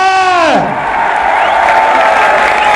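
A crowd at a PTI political rally in Muzaffarabad cheers, whoops and applauds loudly and continuously, with a brief voice over a PA at the start.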